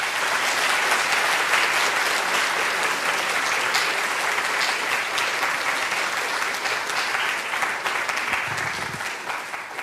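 A lecture audience gives sustained applause to welcome the speaker, dense clapping that holds steady for about ten seconds and then begins to thin out.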